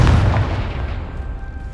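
A booming fire-spell explosion from the Hogwarts Legacy game, a loud low blast that rolls off and fades over under two seconds.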